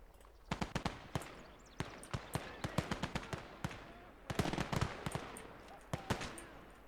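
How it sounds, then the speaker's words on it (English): Machine gun fire rattles in the World War II strategy game Call To Arms: Gates Of Hell, sounding as sharp short bursts of repeated reports with gaps between them, fairly faint and distant. "you can hear MG somewhere over here"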